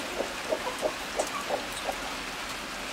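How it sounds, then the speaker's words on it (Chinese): Rain falls as a soft steady hiss, fairly faint, with a run of light regular taps on top and no one speaking. "这又下雨，这雨又下大了。"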